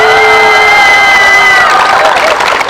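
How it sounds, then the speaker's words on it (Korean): A crowd cheers and claps at an outdoor Catholic street mass during a climate justice march, a loud, continuous roar of voices with applause and whoops throughout. "더 신나게 박수 치시고."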